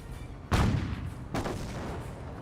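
Two heavy booms from cannon and mortar fire in the World War II strategy game Company of Heroes, a sharp blast followed by a second one under a second later, each with a rumbling decay.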